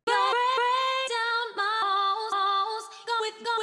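Sixteen slices of a vocal sample, triggered as a MIDI pattern in Maschine for a garage house track, sounding as chopped pitched vocal stabs in a choppy rhythmic phrase with brief gaps between hits, loud and alone.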